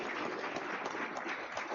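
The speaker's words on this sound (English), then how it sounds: "Ladies and gentlemen, how about one more round of applause for our team?" A room of people at a school Board of Education ceremony claps in a steady, even wash of applause throughout the brief moment.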